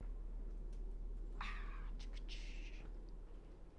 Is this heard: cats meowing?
yes